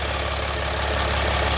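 A Mercedes OM 642 diesel engine idles steadily while warming up, a continuous low rumble with even mechanical clatter, close and constant throughout with no talk.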